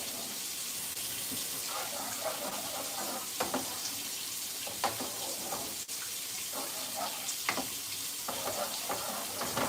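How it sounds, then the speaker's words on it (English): Food sizzles steadily in a pan while it is stirred, with a constant hiss broken by occasional soft scrapes and knocks of the utensil, heard at moderate distance with no talking. "Make sure you stir it up really good, guys."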